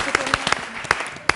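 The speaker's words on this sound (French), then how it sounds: "On applaudit Caroline qui revient" Scattered applause on a French talk show greets a guest returning from a massage demonstration, with a handful of distinct claps standing out over murmuring voices in the room.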